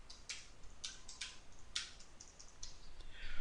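Quick, irregular keystrokes tapped on a computer keyboard, light clicks in short bursts, quiet and close, with no voice over them.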